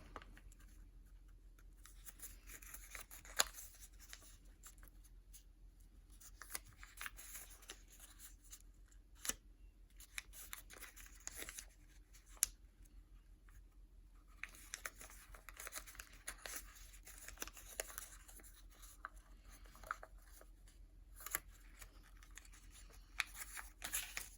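Origami paper being folded in half for a Ligia Montoya flower star, heard over a long stretch as soft, close crinkling, sliding and creasing sounds with scattered sharp little crackles.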